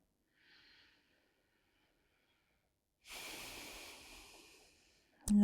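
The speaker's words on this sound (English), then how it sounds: "And just breathing, inhale and exhale." Slow, relaxed breathing during a floor-based yoga unwinding session, one soft faint breath early followed by a longer, louder exhale of airy rushing, then a brief sharp knock at the end.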